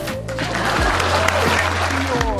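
A small crowd claps in a burst of applause, fairly close and steady for a couple of seconds, with some voices mixed in.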